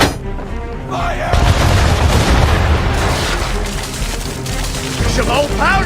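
Ship cannons boom in a naval battle in Assassin's Creed 3, a loud sustained barrage of heavy blasts and rumble with a voice shouting over it.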